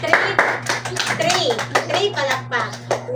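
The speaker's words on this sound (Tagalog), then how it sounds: "Sige, tagaing palakpak inyong kagalingon." A classroom of children claps together in a math lesson, with sharp bursts of applause that repeat and mix with children's voices and an adult speaking over them.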